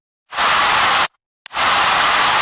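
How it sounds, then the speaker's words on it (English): Two bursts of loud, steady broadband hiss, each cutting off abruptly, separated by a brief silence. "Used white noise and crowd effect to fill out the frequency spectrum"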